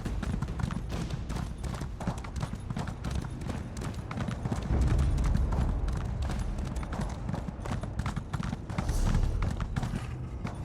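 A horse ridden in Elder Scrolls Online trots with a steady, close clip-clop of hooves that runs through the whole stretch, with faint game ambience beneath it.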